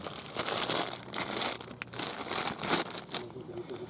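Plastic bag holding cash, US dollars, crinkling and rustling up close in irregular bursts, with voices talking faintly underneath.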